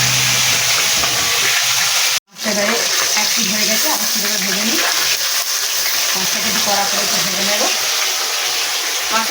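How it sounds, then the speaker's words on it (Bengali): Pabda fish fry in a pan with a loud, dense, close sizzle and crackle throughout, interrupted by one brief cutout near the start, with stirring textures and no speech. "দেখো মাছ তো ভাজছি"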